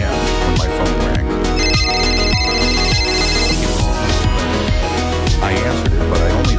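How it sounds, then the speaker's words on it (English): A phone rings loudly with an electronic ringtone melody: bright repeating tones over a steady rhythmic pulse that fills the whole stretch without pause. "It was 3 a.m. when my phone rang."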